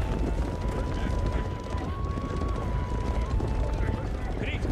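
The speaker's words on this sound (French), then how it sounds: "Mais le son des chevaux et tout." Horse hooves gallop in a video game, a steady muffled drumming under a dense wash of game noise and a thin sustained tone, continuous and fairly loud throughout.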